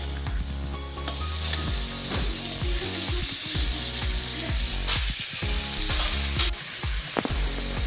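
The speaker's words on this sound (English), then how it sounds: "from the sound of the sizzle, you can see that the onions are browning" Onions sizzle and crackle steadily in hot coconut oil, browning, with repeated scraping and stirring sounds over the frying hiss.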